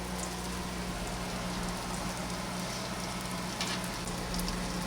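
Crab cakes frying in a pan give a steady, dense sizzle with faint crackles and pops, continuous and unbroken throughout.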